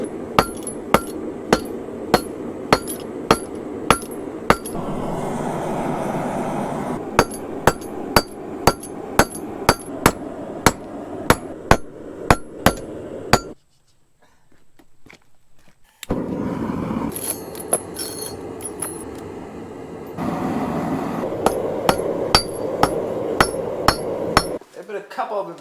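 Hammer forging spring steel to a point on an anvil for a cane sword, sharp ringing strikes in quick rhythmic bursts over a roaring forge hiss, with a pause midway before the blows resume.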